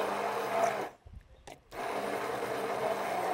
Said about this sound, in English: So we're gonna take our blender attachment again, and water